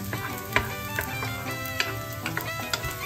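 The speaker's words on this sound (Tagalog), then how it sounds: "Patustahin natin ng kaunti yung ating bawang" Garlic toasting in a pan for ginataang dilis sizzles steadily, with a few sharp clicks of a utensil stirring against the pan, close and fairly quiet.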